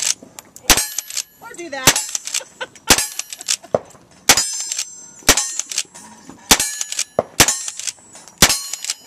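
About eight sharp, loud gunshots ring out across a shooting competition stage, each followed by a metallic clang or ping from steel targets, with brief spoken words in between.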